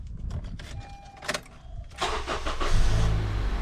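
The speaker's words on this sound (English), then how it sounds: "first I'm going to be starting up the vehicle" Engine of a 2012 Honda car starting, with a brief clicking and a whirring crank, then the engine catches into a steady low idle, close by.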